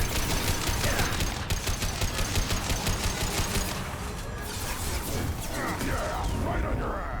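Rapid automatic gunfire rattles in fast bursts in Mass Effect 2 combat, loud and dense at first before thinning into scattered shots and crashes, with a voice speaking over it.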